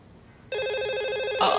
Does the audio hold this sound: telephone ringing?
yes